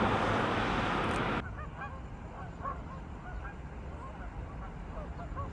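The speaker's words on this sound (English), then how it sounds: "Scanning through goose flocks, trying to see if I could find anything rare." A flock of geese honks from a distance, a scatter of short nasal calls over steady wind noise after a loud gust fades, with no voices.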